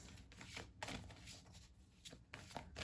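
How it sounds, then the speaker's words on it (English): Oracle cards are shuffled by hand for a reading, a series of soft, quiet riffling and slapping bursts at close range with brief pauses between them. "Shuffle a few times."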